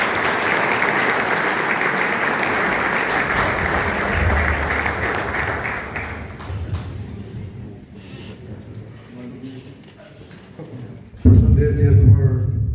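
Applause for an election candidate at a municipal election rally in Krushë e Madhe: a crowd claps loudly and steadily for about six seconds, then the clapping thins and fades, and a louder burst of sound follows near the end.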